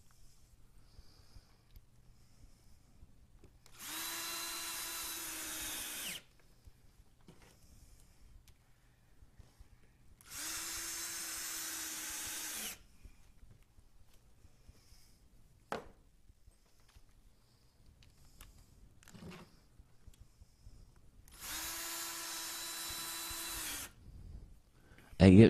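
Power drill driving long screws into a homemade double TV antenna, three separate whirring bursts of about two seconds each with quiet pauses between, fairly close.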